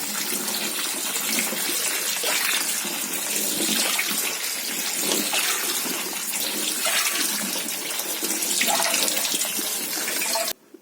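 Running water pours over pumpkin seeds from a carved pumpkin as they are rinsed, a steady close splashing gush that lasts about ten seconds and then cuts off with a small clunk, with no talk.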